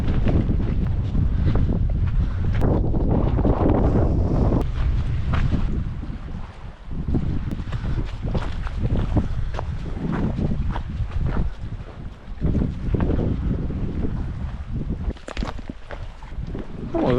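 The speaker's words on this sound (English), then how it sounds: "the wind is really picking up here" Strong wind roars steadily across the microphone on a boat sailing near islands, with gusty buffeting and water wash underneath, loud and continuous with no talk.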